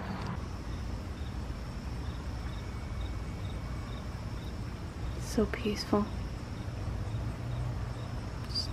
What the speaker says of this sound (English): It's just the crickets chirping.